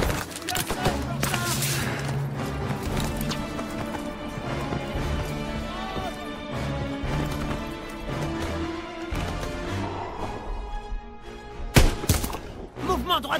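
Dense World War II firefight in Call of Duty WWII, with rapid overlapping gunshots and bursts of fire running steadily throughout, loud and close, over constant battle noise with occasional sharper cracks.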